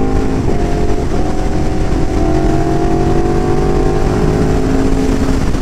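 An Aprilia RSV4 1100 Factory V4 sports motorcycle revs at lower RPMs, a steady, loud engine drone with rising and falling tones held close throughout, with no talking.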